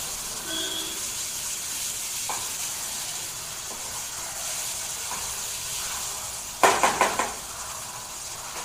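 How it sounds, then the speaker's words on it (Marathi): Onion sautéing in a pan gives a steady, close hissing sizzle, broken near the end by a few sharp clatters of a utensil against the pan. "आता इथे थोडा कांदा परतून झालाय"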